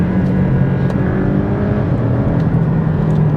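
A Porsche Cayman Style Edition's 2-litre turbocharged four-cylinder engine drones steadily while driving, a loud continuous rumble with even tone and no change in pace.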